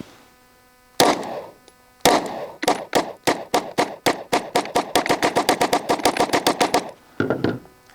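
A pistol fires PMC Bronze 115 grain rounds, a loud close string of gunshots, first two separate shots, then a steady volley that speeds into rapid fire before a final pair of cracks.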